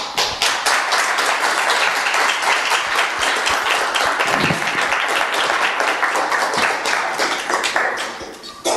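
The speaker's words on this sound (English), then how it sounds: "I propose a round of applause" Sustained applause from an audience closing a session at a software engineering lecture, dense steady clapping for about eight seconds before tapering at the end.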